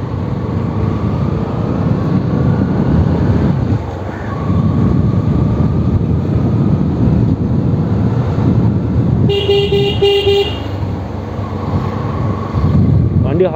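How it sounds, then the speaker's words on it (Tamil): Horn of a Bajaj Pulsar NS 200 BS4 motorcycle sounds a couple of short, bright honks midway through, over steady wind and road noise. "வண்டி ஹாரனும் பார்த்தீங்கன்னா சூப்பராக இருக்கு."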